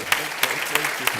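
An audience at a university lecture hall claps steadily for the VC, a short burst of even, crowd-wide applause.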